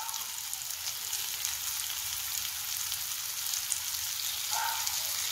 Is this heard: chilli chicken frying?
yes